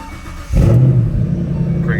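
A Corvette ZR1 that has sat unused for a year cranks and fires up, settling into a loud, close idle after a brief quiet lead-in.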